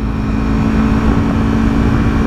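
Manual car engine droning loudly and steadily from inside the cabin while shifting up into second and third, a constant low hum with a strong tonal whine and no speech.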